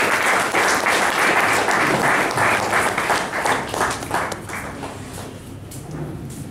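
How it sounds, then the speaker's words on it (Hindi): Audience applause welcoming a speaker at a book launch seminar, a dense steady roar of many hands from the start that gradually thins and softens toward the end, with no talking over it. "हम सभी तालियों से स्वागत"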